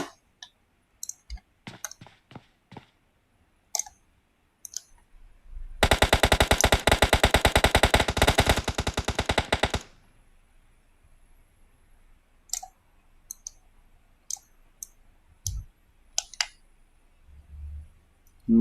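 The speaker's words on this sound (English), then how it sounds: "A few rounds going out there." Sustained automatic gunfire in a squad video game rattles loud and fast for about four seconds, framed by scattered single clicks and distant isolated shots.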